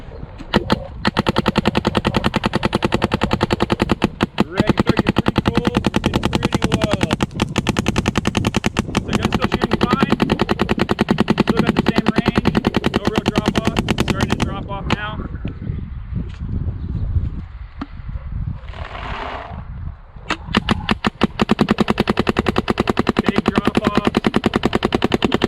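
Planet Eclipse CS2 paintball marker firing rapid bursts outdoors, loud dense strings of sharp pops that nearly fill the span, with a brief quieter lull in the middle before the rapid firing resumes.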